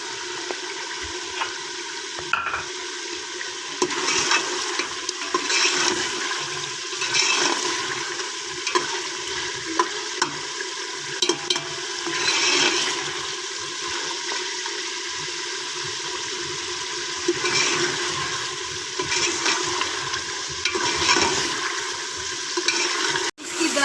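Meat sizzling and being stirred in a pot for a turnip meat curry, a steady broadband frying hiss with occasional scrapes and clinks of the spoon, continuous and fairly close, with no talking.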